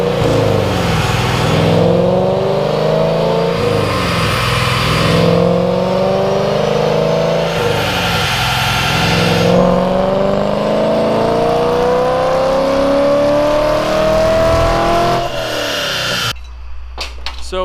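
A 2017 Camaro SS V8 revs hard on a dyno, loud and close, climbing through repeated rising pulls with shifts about every two seconds before suddenly cutting off near the end.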